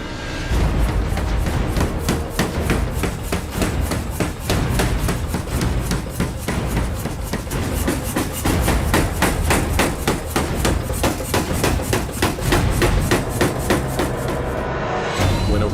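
Power hammer forging the beard of a steel axe head with fullering dies, a fast, steady, loud train of metallic blows repeating evenly throughout without talk.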